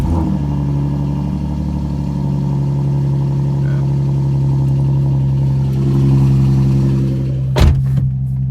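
A V6 Ford Mustang (2011-2014) engine idles steadily with a low, even hum after an EVAP purge valve replacement, close and continuous, with a brief sharp click near the end.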